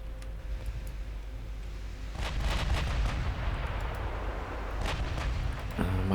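Naval gunfire in the warship strategy game Ultimate Admiral Dreadnoughts, a rumbling, continuous din of distant booming shots that grows denser and louder midway, with no speech.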